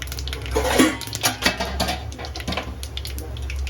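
Metal clatter of a lid set onto a cooking pot in a home kitchen while farrari dhokla is being made in India, a few light clinks and knocks close by with faint murmuring in the background.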